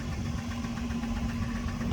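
A 2004 Jeep Liberty Renegade engine with a bad exhaust leak idles steadily with a low, rough, throbbing drone and a constant hum, close by and unchanging.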